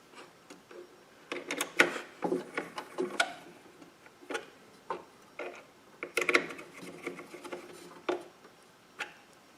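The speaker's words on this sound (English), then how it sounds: "secure the screws on the hard drive housing with the screwdriver" Hard drive screws being secured with a screwdriver in a PC case: a string of small, irregular metallic clicks and taps, fairly close, in two bursts, with no talking.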